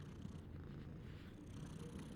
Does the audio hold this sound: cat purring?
yes